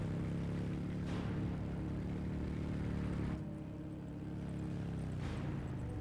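A motorcycle engine in Company of Heroes, a WWII real-time strategy game, holds a steady low drone throughout with little change in pitch or level.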